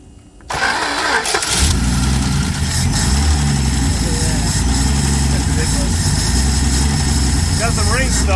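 A 1968 Dodge Coronet engine cranks over and catches, then runs at a steady, loud idle through a holed muffler, a rough throaty rumble that carries on to the end, with people talking over it.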